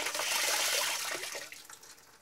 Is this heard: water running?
yes